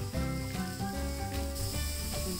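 Carrots, curry leaves and cashews frying in a pan for rava uppuma, a loud close sizzle with crackling bursts throughout.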